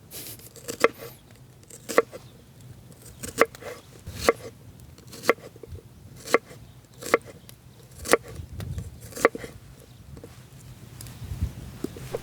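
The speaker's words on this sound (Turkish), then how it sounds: "Soğanları da yuvarlak yuvarlak kesiyorum" A knife cuts onions into rings on a board outdoors while trout is prepared for a forest oven. The steady, crisp chops land about every half second, close and clear, with no talking.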